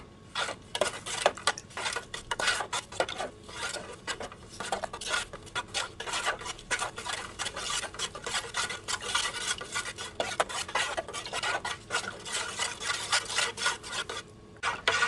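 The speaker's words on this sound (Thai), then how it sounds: "ตรงนี้ก็ใช้ช้อนคนไปเรื่อยๆ สังเกตการละลายของน้ำตาลแล้วก็เกลือ" A spoon stirs coconut milk with dissolving sugar and salt in a pot, giving continuous close scraping and rubbing strokes against the metal in a steady uneven rhythm, with no voices.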